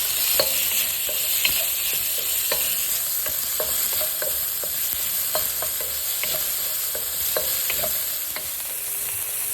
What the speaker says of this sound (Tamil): பூண்டை வதக்கிறது. பூண்டு, வெங்காயம், பச்சை மிளகாய்